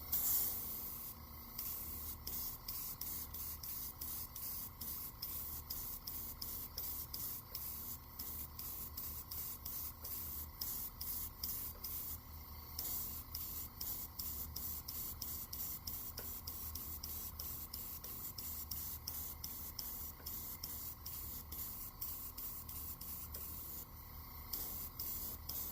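An airbrush with a .035 nozzle sprays thick paint onto a fishing lure in short repeated bursts, a close, rhythmic hiss pulsing steadily throughout with brief pauses, and no voices.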